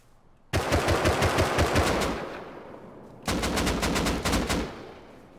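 In the video game Rust, a turret fires rapid automatic bursts, loud and close: one long burst, a short pause, then a second burst of sharp, evenly spaced shots.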